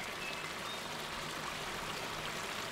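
River water flowing steadily, a continuous even rush and trickle with no voices and no breaks.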